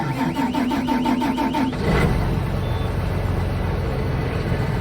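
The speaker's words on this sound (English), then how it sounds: "Cranking." Engine of a farm vehicle used for bean planting cranking with rhythmic starter pulses, then catching around two seconds and settling into a steady, loud idle rumble.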